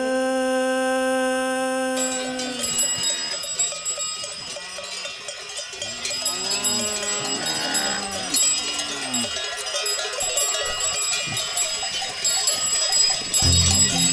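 Bells on the necks of bulls ringing along a forest path, clanking in irregular overlapping strokes over a sustained musical backdrop, with livestock-like calls mixed in.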